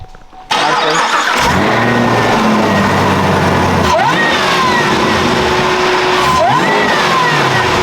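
A Chevrolet Camaro ZL1 fitted with a DSX supercharger lid cranks and fires up, then idles loudly with repeated throttle blips and revs, the supercharger whine rising with each rev, close and steady throughout.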